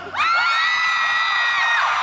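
A large audience at a Phantom Singer Festival concert breaks into loud, sustained cheering and high-pitched shouting, a dense crowd roar that swells quickly and holds.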